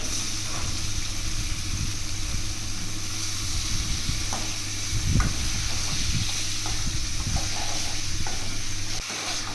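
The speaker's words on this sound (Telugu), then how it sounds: "చికెన్లో ఉన్న నీరంతా బాగా బయటికి వచ్చే వరకు బాగా ఫ్రై చేసుకోవాలి" Chicken fries in hot oil with a steady, fairly quiet sizzle, broken by occasional scrapes and clinks as it is stirred in the pan.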